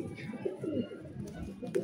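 Close, soft cooing of an old-breed pigeon, a few low rolling coos over faint background noise.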